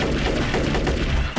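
Cartoon spaceship blaster fire in a forest comedy, a loud dense burst of rapid zapping shots sustained throughout, with no talking.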